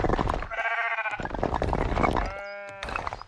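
Sheep in the video game Tiny Glade let out two clear, wavering bleats, the first near the start and a second toward the end, with soft game ambience between them.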